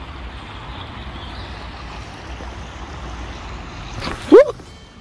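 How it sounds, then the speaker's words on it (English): Running water flows by a river in the city at night, a steady low broadband rush heard from nearby, broken near the end by one brief, sharp, rising chirp. "I can really focus in on the sounds from the running water."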